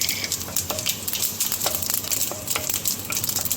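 Dried chilies go into hot ghee with popping mustard seeds in a pan, giving a steady crackling sizzle with scattered sharp pops and no talking.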